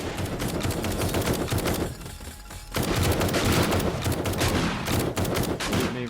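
Automatic turrets in 7 Days to Die hammer away in dense, continuous volleys of gunfire, loud and close, with a brief lull before the firing resumes just as heavily.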